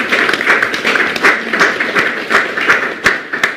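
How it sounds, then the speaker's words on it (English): Applause from an audience after a post-Cabinet meeting address, steady dense clapping from a modest crowd at moderate loudness, lasting the whole moment. "Give them a round of applause, or give yourself a round of applause."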